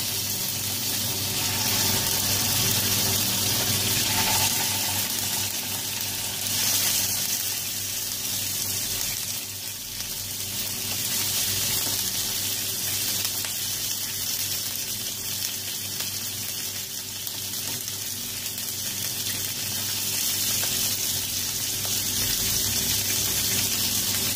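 Fish shallow-frying in about half a cup of oil over a medium flame for fish karahi, a loud continuous close sizzle and crackle with steady spattering, no talk.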